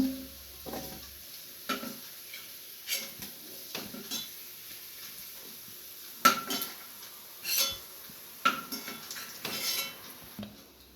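A metal spoon clinks and scrapes against a pan and plate as fried onions are lifted out of hot oil, with scattered sharp taps and soft rattles over a quiet, faint sizzling background.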